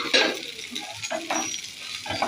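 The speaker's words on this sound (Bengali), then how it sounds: "পেঁয়াজ দিয়ে দেবো জাস্ট হালকা করে একটু ভাজবো সঙ্গে রসুন কাঁচা লঙ্কাগুলোও দিয়ে দেবো" Onion, garlic and green chilies with tomatoes frying and being stirred in a pan give a steady close sizzle with scraping stir strokes throughout, no talking.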